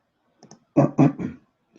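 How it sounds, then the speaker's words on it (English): A few quick keystroke clicks, a couple of light taps followed by three louder clustered key presses and a faint final tap, close and isolated. "Oops, I'm typing in Arabic."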